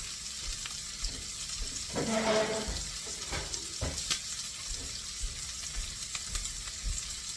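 Shrimp fry in a hot pan with a bright, continuous sizzle, broken now and then by stirring scrapes and soft clatter, close and moderately loud with no one speaking.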